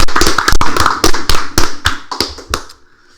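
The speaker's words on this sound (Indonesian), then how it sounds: "Tepuk tangan ya." Sharp, loud claps come in a quick, roughly even rhythm of about eight distinct hits, likely a small group clapping together, ending abruptly with a short quiet tail.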